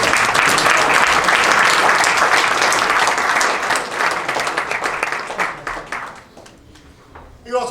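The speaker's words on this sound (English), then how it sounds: "please, round of applause for Dwayne Johnson." An audience applauds a coach at a Long Island track and field awards ceremony, with dense, sustained clapping that is loud at first, then thins and fades toward the end before a brief final burst.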